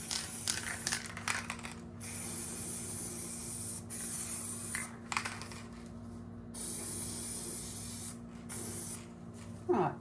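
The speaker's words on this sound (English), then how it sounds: "I'm not spraying all over, just on the edge and the corners." Aerosol spray hisses in several bursts of varying length with short pauses between, applied to the edges and corners of a resin piece; close and steady.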